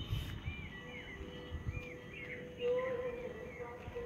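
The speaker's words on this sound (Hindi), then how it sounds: "पक्षियों की आवाज़ें, चिड़ियों की चहचहाट" Birds chirp in a natural outdoor setting near Jabalpur, with faint, scattered calls over a low, steady background hum.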